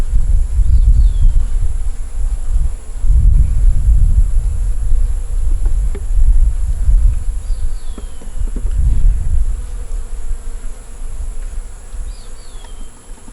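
Honey bees buzz around an open hive during a queen check, a loud, close, steady drone with swelling low hum and occasional individual bees whizzing past, continuous throughout with no talking.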